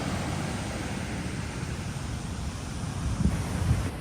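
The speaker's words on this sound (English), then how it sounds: "Walked a bit further down the beach" Ocean surf rolls onto an Australian beach in a continuous broadband wash, with wind buffeting the microphone and a couple of slightly louder wave surges near the end, no voices.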